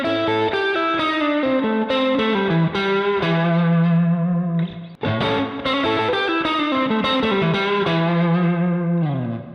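Electric blues guitar with distortion and chorus playing a lick of bent notes and wide, heavy vibrato, loud and sustained with a brief pause midway before the phrase resumes.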